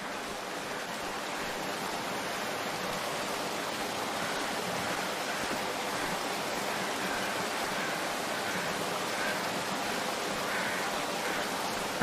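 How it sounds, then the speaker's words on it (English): Small waterfalls in the video game The Long Dark, a steady, even rush of falling water running without pause, close and moderately loud with no voices. "you're going to want to head towards the sound of Small Waterfalls."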